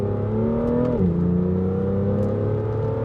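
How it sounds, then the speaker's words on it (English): A BMW car engine drones loudly and steadily, its pitch dipping sharply and then settling as it downshifts, heard close with no talk. "listen to those downshifts"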